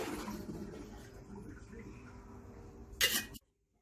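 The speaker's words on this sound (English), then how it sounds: "I put water in here and mix this" Water poured into containers and shaken while making rhubarb wine, giving a close, soft sloshing and gurgling, then a brief louder splashy burst before it stops abruptly into silence.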